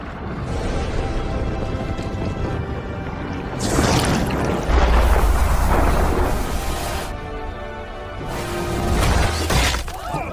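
Loud crashing bursts with a shattering, booming quality from an explosion caused by an arrow in an animated series, rising in two heavy surges with rumbling low end between them.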